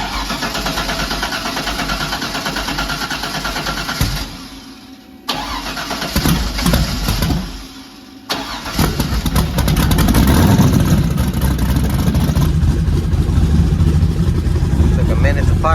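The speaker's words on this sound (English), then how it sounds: "gonna give her a little test startup" A Nissan 240SX race car engine cranks, stumbles and catches on a cold day, then settles into a loud rough idle and sharp revving; the close engine sound dominates throughout and gets louder toward the end.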